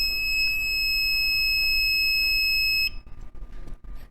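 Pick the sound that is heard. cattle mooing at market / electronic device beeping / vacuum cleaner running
electronic device beeping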